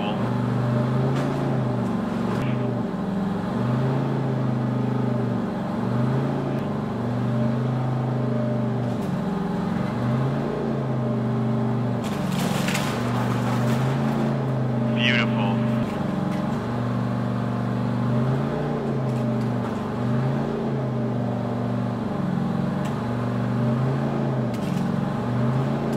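The MegaBot giant robot's motors and hydraulics drone loudly and steadily as it spins a copy machine in its claw. A brief sharper clatter rises midway, and voices talk over the machine noise.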